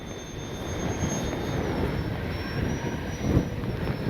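FMS 70mm A-10 Thunderbolt II RC jet on landing approach with gear down, a steady loud rushing whine of electric ducted fans, with a thin high tone shifting slightly in pitch.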